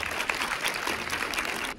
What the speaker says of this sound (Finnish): Loopille isot aplodit